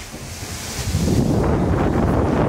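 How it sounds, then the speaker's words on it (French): Strong storm wind roaring outdoors, a loud, constant buffeting rush that swells after the first second and stays heavy, with no voices. "Là ça souffle très fort."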